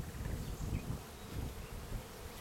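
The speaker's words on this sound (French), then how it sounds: "nos petites abeilles qui actuellement battent leur appel" Dense, continuous buzzing of many honeybees at a hive, close and steady, with no pauses.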